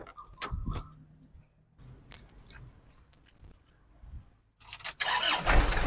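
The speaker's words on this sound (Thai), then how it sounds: "ลองดูฟังเสียงเครื่องกันนะครับ" A 2004 Isuzu D-Max SLX pickup engine starts up after some faint clicks and rattles, catching near the end with a loud, close, rough rumble that settles into a steady idle.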